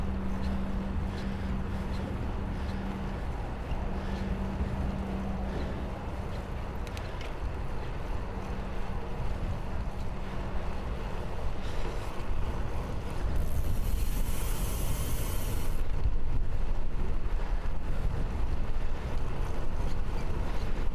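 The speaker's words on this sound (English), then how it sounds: "Still windy as hell today" Strong wind buffeting the microphone on a morning commute on Vancouver Island, a steady loud rushing roar that swells toward the end, with a faint low hum underneath and no talking.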